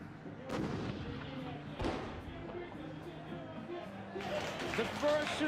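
A tank fires a shot that hits its target: two heavy booming blasts a little over a second apart, followed by a rumbling impact. Excited voices talk over the gunfire.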